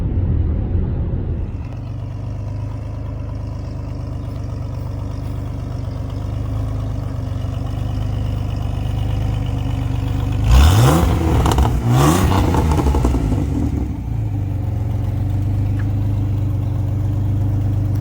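A Pontiac Fiero engine idles with a steady, close rumble, then revs sharply twice in quick succession before settling back to idle, with no voices heard.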